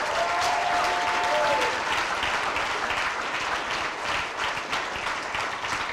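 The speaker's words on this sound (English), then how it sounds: "just one more round of applause for all of our winners tonight." A large audience claps steadily and enthusiastically throughout, a dense, sustained wash of applause.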